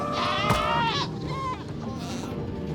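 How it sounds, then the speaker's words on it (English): A screaming goat in Minecraft lets out a loud, wavering, human-like bleating cry near the start, followed by a softer bleat against a low ambient background. "This is a screaming goat here."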